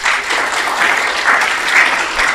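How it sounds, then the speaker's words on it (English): Steady applause from an audience at a city council meeting in Alpharetta as honorees are called forward, dense continuous clapping filling the room at even loudness throughout. "Y'all are clapping, you don't even know what he did yet."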